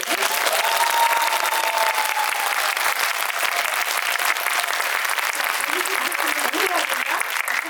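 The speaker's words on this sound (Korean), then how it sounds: "재밌게 보신 만큼 박수 한번 크게 쳐볼까요?" Audience applause at a Korean film talk event for the movie Count: dense, loud clapping from a full house continues steadily throughout, with a few voices and cheers mixed in near the end.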